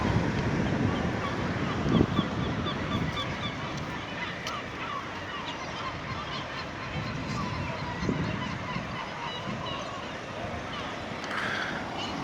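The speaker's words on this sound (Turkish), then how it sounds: "Martıların şöleni var." Seagulls call and squawk repeatedly over a steady outdoor wash of wind and water along the Tekirdağ waterfront, with bursts of overlapping cries across the whole stretch.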